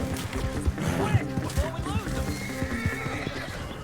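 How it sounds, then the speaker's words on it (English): Horse whinnying in the Red Dead Redemption 2 video game, a neigh rising amid busy game sound with hooves and voices talking over it. "This is the horse."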